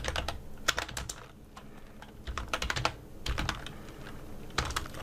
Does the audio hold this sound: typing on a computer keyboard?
yes